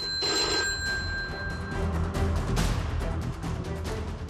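A government official's mobile phone in Uttar Pradesh ringing, with bright steady electronic ring tones over roughly the first half, then a busy broadband wash of noise continuing to the end, fairly loud and with no talking.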